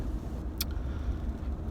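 A car driving home, heard from inside the cabin: a steady low road and engine rumble fills the clip, with one brief sharp click partway through and no talking.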